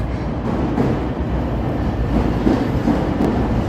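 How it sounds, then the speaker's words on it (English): A Chicago Red Line subway train rounds a bend in a street setting, its steady low rumble and rolling wheel noise continuous and fairly loud throughout, with faint clicks over the top. "We'll zoom in and get the train round in the bend here"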